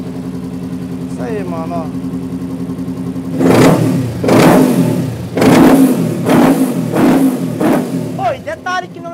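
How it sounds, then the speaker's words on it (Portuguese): A Kawasaki Ninja 400 motorcycle with no air filter cranks, starts and is revved in several sharp, loud bursts close by, while people talk briefly over the engine. "Vamos fazer o ligamento dela agora? Faz o ligamento da motoca aí."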